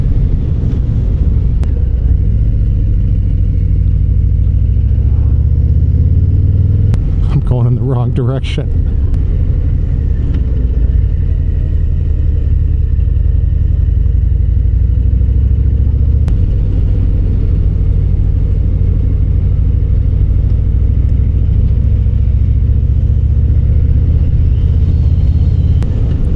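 2025 Harley-Davidson Fat Boy Gray Ghost cruiser motorcycle engine rumbling steadily while riding, a deep continuous low throb with wind noise, loud and close, with someone talking over it for much of the ride.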